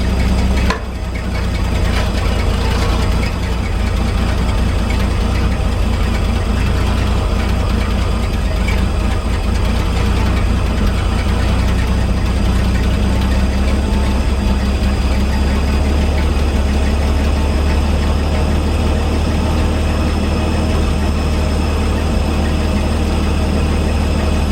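A 1961 GMC 5000 truck with a GMC 351 V6 converted to a Holley carburetor idles steadily and loudly up close for a long stretch. The low, rumbling idle smooths out, with no talk over it.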